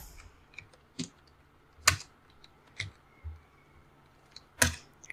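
Sparse, crisp keystrokes on a computer keyboard, about half a dozen clicky taps with uneven gaps between them, close and distinct in a quiet room.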